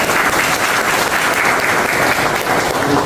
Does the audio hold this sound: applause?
yes